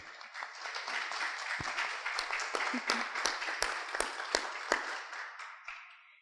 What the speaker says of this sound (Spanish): Por favor, pido que recibamos a Diana con un fuerte aplauso.